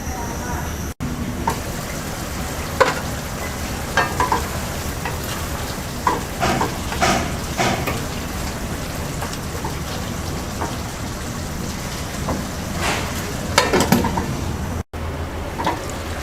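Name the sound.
beans and potatoes cooking in a pan on medium heat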